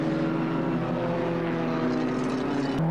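A post-war Lotus racing car runs at Silverstone, its engine a steady, harmonic drone held for a few seconds before the pitch shifts abruptly at the very end.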